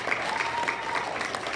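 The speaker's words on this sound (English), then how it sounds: "Somebody clap up." A church congregation claps during offering time at a COGIC revival service, a dense, continuous patter of many hands from a crowd with voices faintly mixed in.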